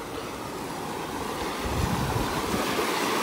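A small river flows near a wooden bridge, giving a steady, close rush of water that swells slightly partway through, with no voices.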